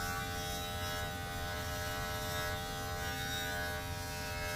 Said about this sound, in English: These clippers, man, everything they touch, they cut.